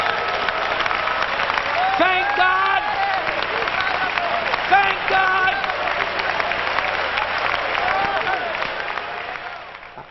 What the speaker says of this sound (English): Let's all stand together and just clap our hands to the Lord again.